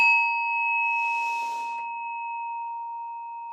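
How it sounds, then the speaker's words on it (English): A meditation chime rings out during a breathing exercise, a single clear, sustained metallic tone that lingers and slowly decays in a quiet room. "And this is going to be 5 chimes."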